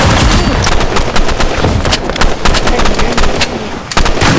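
Dense, loud bursts of automatic gunfire and rapid shots from a shooter video game, with continuous rattling fire and a few heavier cracks over the whole stretch.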